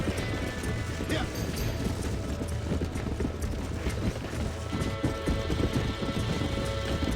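Horse hooves clip-clopping at a gallop in the Red Dead Redemption video game, a steady rapid patter of hoofbeats over a continuous rustling, rain-like background with no talk.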